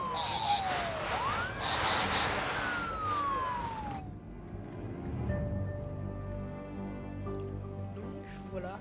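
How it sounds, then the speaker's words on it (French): Ambulance siren in the SimCity city-building game: a wailing electronic tone sweeps down and back up, loud over a busy city-traffic background, then gives way to steadier tonal hum and faint clicks. "on voit l'ambulance qui vient réanimer les personnes"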